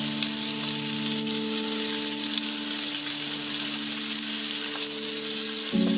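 Onion frying in butter in a pan, producing a steady, loud close sizzle with a faint constant hum beneath and a small clatter near the end, without talk.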